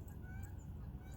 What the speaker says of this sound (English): Oh, hear a goose.